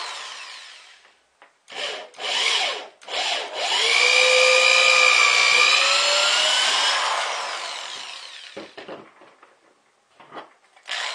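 A power drill whirring as it bores into wood, a long sustained grinding whine with short starts before it and brief scrapes afterward.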